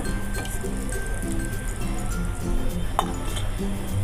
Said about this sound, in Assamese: আৰু এই তেলতে গোটেইকেইটাও মই ভাজি ল'ম